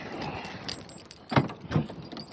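A set of keys jangles near the mic in a few short metallic bursts, the last two louder and close together, with a faint hum of a 2014 Dodge Caravan's surroundings underneath.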